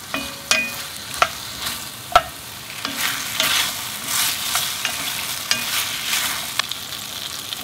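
Diced potato stirred and fried in a pan for Korean curry rice, a continuous soft sizzle punctuated by sharp clicks and scrapes of the utensil against the pan, close and without speech.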